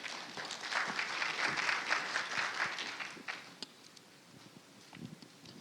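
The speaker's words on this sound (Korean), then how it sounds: "큰 박수로 모시겠습니다." A conference audience at a battery industry event claps to welcome a speaker, dense applause for about three seconds that tapers off into scattered claps and a quiet room.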